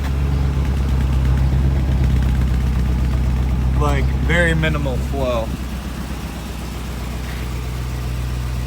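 A car engine idles in a garage with its choke on, a steady low drone that runs unbroken under a voice talking close by.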